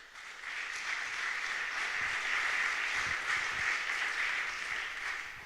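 A panel audience applauds steadily as a show-of-hands style vote, a dense even wash of clapping that holds for several seconds without a break.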